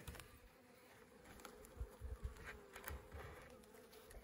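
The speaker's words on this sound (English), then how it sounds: "Not a lot of bees" A soft, steady buzz of a few bees hovering nearby during a beehive inspection, faint and continuous with small swells in loudness.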